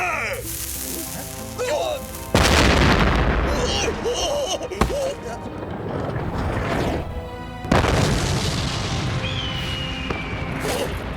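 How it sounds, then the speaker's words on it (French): Several heavy booms of cannon fire in an animated Zorro cartoon, each a loud blast that rolls off into rumble, spaced a few seconds apart. "Oh, mes canons. Feu!"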